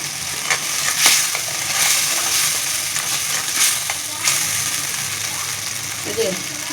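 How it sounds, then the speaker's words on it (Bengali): Spice masala with salt and turmeric fries in hot oil while being stirred, a steady sizzle broken by several scraping stirs, with a voice talking faintly under it near the end. "এই যে মশলাটা এবার ভালো করে ভুনে নিব।"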